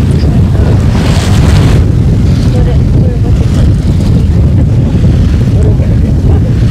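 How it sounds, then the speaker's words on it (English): Strong wind buffets the deck of the schooner Eleanor at Kennebunkport, Maine, a loud, steady roar of gusts and microphone rumble that persists throughout with no pauses. "Now that's like 40-mile-an-hour wind."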